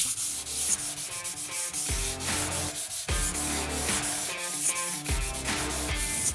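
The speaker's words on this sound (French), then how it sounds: "on va vraiment faire un ponçage très très fin puisqu'on va poncer au grain 320" Steady, loud abrasive rubbing of a power sander doing fine 320-grit sanding of wall plaster, continuous with rhythmic strokes and no talking.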